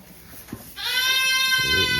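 A ewe bleats once, long and wavering, close by at a farm during lambing season, following a quiet moment with faint handling noises.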